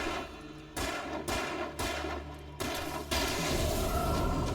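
Gunfire from the survival horror game Alan Wake 2 during a walk through the woods: a series of loud, sharp shots spaced about half a second apart, each bursting broadband, with a steady noisy bed continuing between and after them.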